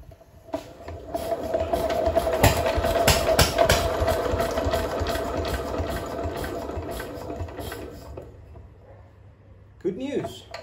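A 1957 Lister D single-cylinder diesel engine starts up and runs with a fast, steady chugging, loud and close, then cuts out; a voice is heard briefly at the end.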